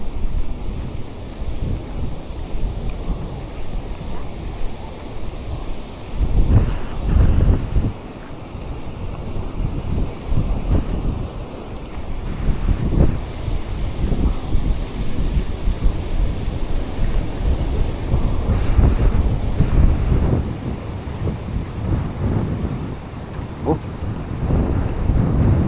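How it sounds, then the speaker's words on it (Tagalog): Typhoon Ramil's strong wind buffets the microphone while large waves surge and crash nearby at Dinahican, Infanta, Quezon, with a continuous low roar swelling and easing. "Laki ng alon mga amigo."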